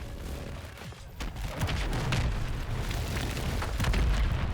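A tactical nuke detonates in the Modern Warfare video game, a heavy booming eruption that swells into a sustained roaring blast with crackling bursts, loud and continuous throughout.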